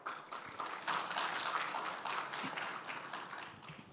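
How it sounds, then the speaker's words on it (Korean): Audience applause greets the Minister of Science and ICT at a youth science forum, many hands clapping in a brisk, even roll that stays fairly steady for several seconds in a hall. "큰 박수로 모시겠습니다."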